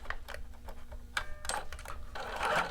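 Short, uneven bursts of mechanical clatter come from a sewing machine back stitching a shoulder seam on a McCall's 7908 bodice toward the neckline, close and moderately quiet, with small ticks and clicks between the runs.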